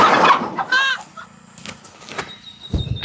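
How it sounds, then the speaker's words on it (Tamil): A small chicken, about 1.25 kilograms, clucks in short bursts, close by, with a few brief cackles and some quiet background noise between them. "இது சின்ன கோழி தான்"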